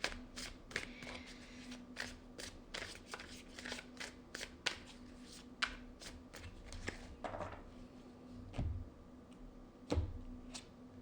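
A tarot deck is shuffled by hand at close range, giving quiet repeated card slaps and clicks in an uneven rhythm with a steady faint hum behind, and no talking.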